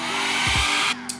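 A Conair Infinity Pro blow dryer runs on its high setting, giving a loud, continuous airy whoosh close by that cuts off abruptly near the end.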